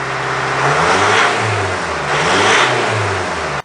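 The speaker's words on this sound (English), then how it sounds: "I'm just going to bring the revs up to apply a little more pressure to it so the turbo kicks in" The 4D56 turbo diesel engine of a Mitsubishi Triton with an overheating fault is revved twice to about 2000 RPM in long swells, the loud rising whoosh of the turbo building with each rev.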